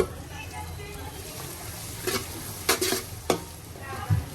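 Marinated meat hitting browned onions in a hot pan, a steady low sizzle with a few sharp clatters of stirring and spoon against pot, while someone talks throughout.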